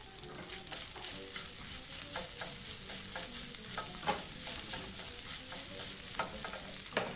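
Chopped white onion tossed into a frying potato mixture for vegetable samosa filling, a soft continuous sizzle broken by scattered clicks and scrapes of stirring.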